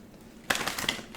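Tarot cards shuffled by hand, a quick burst of crisp riffling and flutter lasting under a second after a quiet start, close and moderately loud.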